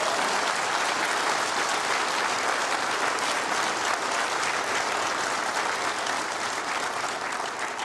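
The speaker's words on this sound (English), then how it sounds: "Give them a clap." A large audience at the Australian of the Year Awards claps steadily and warmly, a dense sustained wash of applause throughout without a break.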